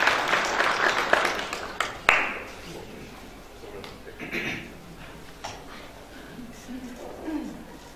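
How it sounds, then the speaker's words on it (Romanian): An audience at a centenary event applauds, with dense clapping that is loudest at the start and then thins into scattered claps and faint murmur. "să-l aplaudăm pe domnul Victor Opaschi"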